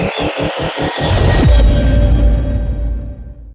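Loud, rough wind buffeting against the microphone outdoors in Somerset, opening with a rapid fluttering throb then turning into a heavy, blustery rumble that fades near the end.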